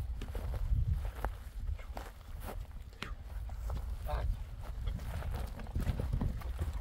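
A horse walks with steady clip-clopping hooves, close by, while people talk over it throughout.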